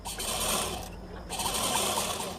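A sewing machine runs a straight stitch along the bottom edge of a baby girl's top made from a saree blouse piece: a steady close whirring hum that stops briefly, then resumes, with no voices.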